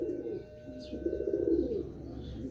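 Royal Teddy pigeon chicks coo softly in low, throaty murmurs close by, with faint background noise and no speech.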